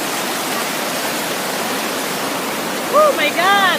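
Flowing river water being crossed on foot, a loud continuous rush of current close by, with excited voices and whistling breaking in near the end.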